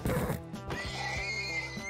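A horse in the video game Minecraft lets out a single neigh, a near, clear whinny lasting about two seconds with no talk over it.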